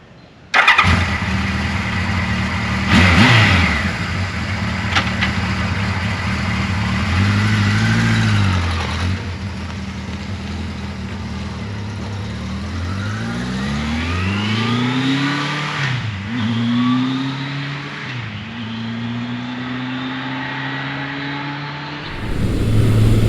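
A 1979 Kawasaki KZ1000 Shaft motorcycle engine starts, then revs and accelerates through several gear changes while being ridden. The engine note rises and falls in steady sweeps, loud and close, with no talking.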